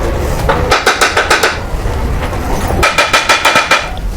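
A hammer taps on the automatic transmission case of a Nissan Grand Livina during a workshop overhaul. Two quick runs of sharp metallic knocks, about six then seven blows, land close and loud over steady background noise.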